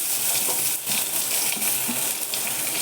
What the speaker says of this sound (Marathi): थोडंसं खोबरं भाजून झालं की त्यातच कांदा टाकते